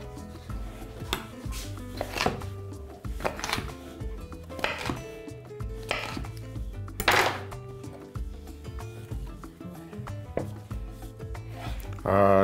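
Food being chopped with a knife on a board in a home kitchen while making fried cheese khachapuri, heard as a run of close, sharp, uneven cuts and knocks over roughly twelve seconds with a faint clatter at the end.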